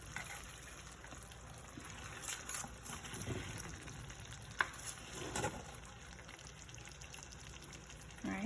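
Pork chops simmer in smothering gravy, a faint steady sizzle and bubbling close by, with a few soft stirring clinks and no talking.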